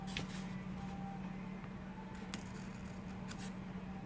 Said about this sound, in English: So I'm going to cut this out.